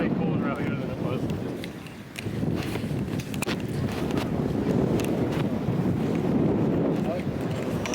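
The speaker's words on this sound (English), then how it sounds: "It's so cold and windy." Cold wind gusting across a beach, buffeting the microphone in a loud, rough rush that dips briefly then swells again, with people talking underneath.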